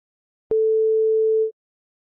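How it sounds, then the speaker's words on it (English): A steady pure electronic tone, a single clean sine-wave pitch from a signal generator played through a loudspeaker, held for about one second, starting and stopping abruptly with silence around it. "a pure sine wave with the same frequency of the generator"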